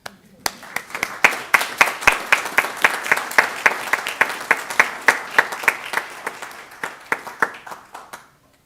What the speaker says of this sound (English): And we should clap for them.